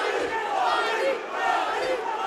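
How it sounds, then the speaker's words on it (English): A crowd cheers and roars at a professional boxing match, a dense, loud, continuous wash of voices that swells and dips slightly throughout. "that's the crowd behind Bani there"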